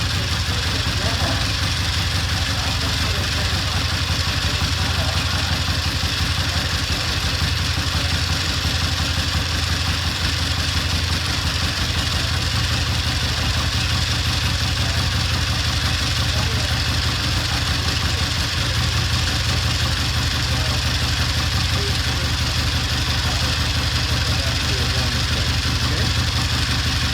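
A Triumph 350cc 3TA motorcycle engine idles steadily and loudly up close, a continuous even rumble that holds for the whole stretch with no gaps.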